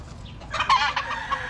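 A chicken that has broken loose from its tether clucks and squawks in a short agitated burst, close by, over faint background noise.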